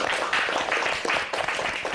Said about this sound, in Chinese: 那让我们先热烈的掌声祝贺他们一下